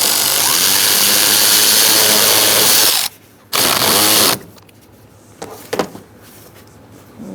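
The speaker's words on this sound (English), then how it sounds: "Going to use an 8mm to tighten the hose clamp back up." An 8mm socket on a ratchet snugs a hose clamp on a 2014-2018 Subaru Forester 2.5L engine. Loud continuous ratcheting comes close up, with a short pause, then a second run and a few faint clicks.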